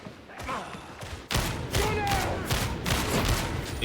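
Grenade explosion in Warhammer 40,000: Darktide: a sudden loud burst cuts in partway through and is followed by a dense spread of crackling shots and thuds, with a voice heard faintly underneath.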